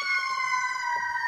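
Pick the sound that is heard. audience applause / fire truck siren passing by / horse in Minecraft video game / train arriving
fire truck siren passing by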